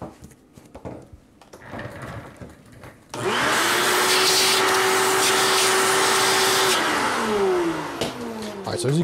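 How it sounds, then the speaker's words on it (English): A vacuum cleaner switches on partway through and roars loudly and steadily close by, sucking debris out of the lock hole of a toy vending machine, its motor tone holding then dipping near the end amid small handling noises. "I'm going to vacuum out that hole so we can get a better"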